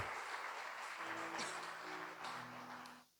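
A church congregation applauds through a short stretch of broad clapping. It is faint and muffled, low organ or keyboard tones sustain underneath, and the sound fades out at the end.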